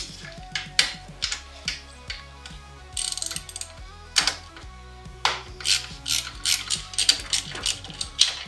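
A 10 mm wrench ratchets steadily on a Polaris RMK Khaos Matryx 9R snowmobile to release track tension, giving rapid close metallic clicks in repeated bursts with brief pauses between strokes.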